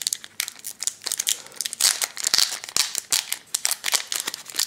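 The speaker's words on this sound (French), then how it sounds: "On va essayer de l'ouvrir" A Pokémon XY booster pack wrapper is crinkled and torn open up close, giving loud, rapid crackling crumples and tearing bursts that continue throughout, with no voices.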